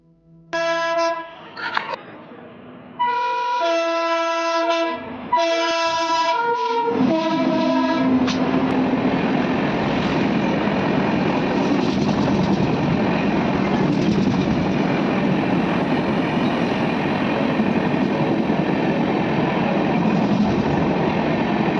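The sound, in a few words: train arriving at a railway station near Mysore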